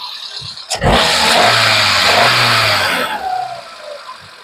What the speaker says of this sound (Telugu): ఇది ఇంజన్ సౌండ్